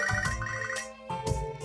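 A phone rings during a call in Pokemon Soul Silver as a looping electronic chiptune ring tone, with repeated bursts of tones in a steady, close pattern and no talking.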